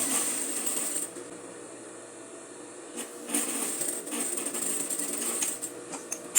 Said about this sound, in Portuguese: Tirei todos os alfinetes e continuei costurando.